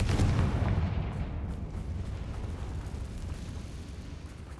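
A Confringo blasting spell explodes in Hogwarts Legacy, giving a loud, deep boom that opens the clip and then rolls into a long rumbling decay, with no voices heard.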